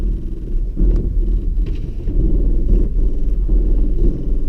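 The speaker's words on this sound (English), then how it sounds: "the system's loud, and as you can see, the car is inching forward slowly" A 2019 Toyota Tacoma's crawl control runs at its low setting as the truck inches forward, producing a loud, close, pulsing low rumble with rhythmic grinding surges roughly every half second.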